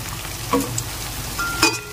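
Turmeric, coriander powder and salt sizzle in hot oil in a pan for Bengali chicken curry, a steady close frying hiss broken by a few metallic clinks of the spatula.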